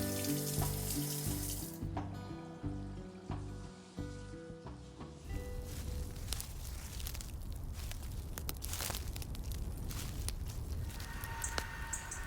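Water runs steadily from an IKEA kitchen mixer tap into a sink, making a close, continuous splashing rush under background music that fades after the first few seconds.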